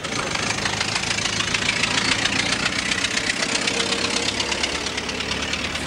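An old vehicle engine runs with a steady knocking chug and rattle throughout, close and fairly loud, with no speech heard over it.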